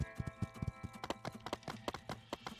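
Horse hooves clip-clop in a quick, steady rhythm in the My Time at Sandrock video game, close and distinct with no talking over them.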